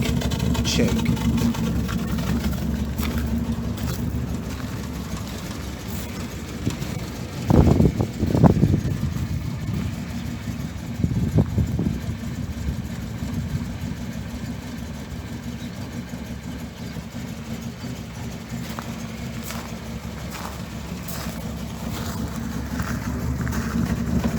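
A Land Rover Series 2a LWB engine idles just after coming off the choke, a steady low rumble that runs throughout, with a couple of short louder knocks and bursts near the middle.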